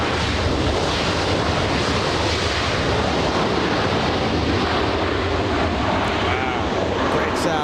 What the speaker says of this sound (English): In a place where touchdowns and takeoffs happen so close to us.